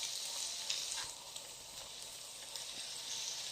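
Garlic and onion sizzle and fry in a pot for chicken kabsa, a steady close crackling hiss with faint stirring clicks and no talking.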